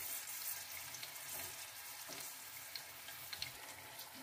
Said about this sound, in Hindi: प्याज को हमने अच्छे से फ्राई कर लेना है।